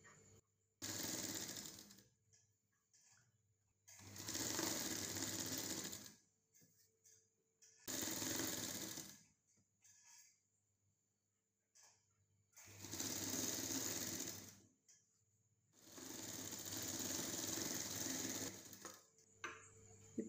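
A sewing machine stitches fabric during a tailoring lesson, whirring in five separate bursts of a few seconds each with silent pauses between, close by and steady in tone, no voices.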